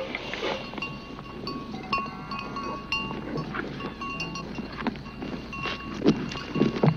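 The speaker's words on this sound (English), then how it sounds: "So many cows, they're coming, and the milk is coming." Farm animals at the New Vrindavan farm, where cows are arriving for milking, with scattered bellows and calls, clopping hooves and bell-like clinks over a busy outdoor background, no talk.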